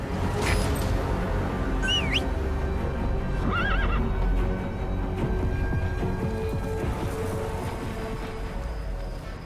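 A horse whinnies twice over steady clip-clop hoofbeats in Metal Gear Solid V: The Phantom Pain, with a continuous low ambient rumble behind.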